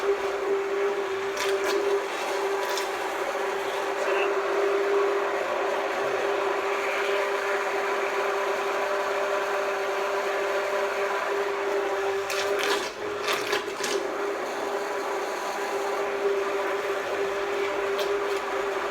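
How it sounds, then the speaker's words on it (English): Steady blender whirring through hot mushroom soup, a continuous mid-pitched motor drone with a constant hum held at even loudness, with occasional brief clatter near the end. "when using a blender in hot liquids, always be very, very careful, start it off slowly"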